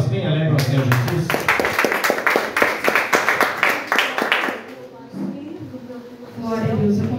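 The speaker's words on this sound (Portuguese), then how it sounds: "vamos receber a irmã Juliana com as palmas bem alegres ao Senhor Jesus" A church congregation claps to welcome a sister to the front, distinct sharp hand claps in a rhythm mixed with voices, then fading into speech and quieter murmuring.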